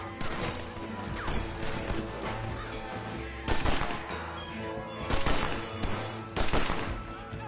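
Mauser pistol shots in the video game Red Dead Redemption, sharp cracks rising out of a dense bed of game music and effects, firing in several separate bursts.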